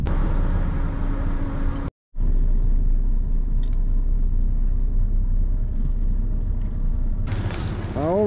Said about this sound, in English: Gleaner on the move.